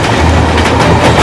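Loud train engine sound effect in a Bengali suspense audio drama: a dense, roaring rush of rolling rail noise that fills the whole brief moment, with no voices.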